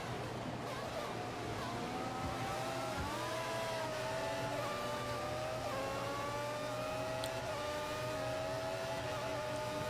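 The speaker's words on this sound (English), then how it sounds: "He's running full revs, maximum power." Simulated F1 race car engine held at full revs in the F1 2014 video game, a loud steady high-pitched whine with small pitch shifts through the clip and a low hum beneath it.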